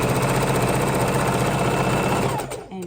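A sewing machine runs steadily and close, lock stitching corners of quilt fabric for half square triangle blocks, with a fast, even mechanical rhythm that stops near the end.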